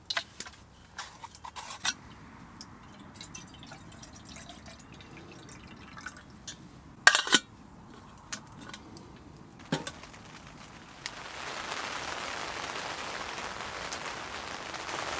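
Scattered rain drips tap on a hot tent at a wet solo campsite with a wood stove, with a few sharper knocks around the middle before a steady hiss of rain takes over near the end.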